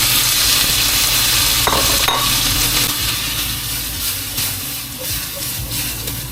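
Onions going into a very hot, smoking pan of oil for a peanut butter cooking dish, giving a loud, steady frying sizzle with stirring scrapes throughout, no talking.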